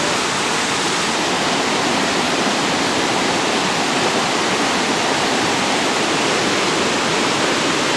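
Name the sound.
small waterfall in Israel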